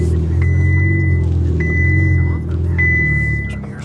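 Lamborghini supercar that replaced the Aventador, heard as a loud, steady engine drone with a deep rumble that holds throughout, easing slightly toward the end, like sustained driving rather than a brief pass.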